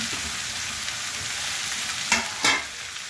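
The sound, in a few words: fenugreek greens frying in a pan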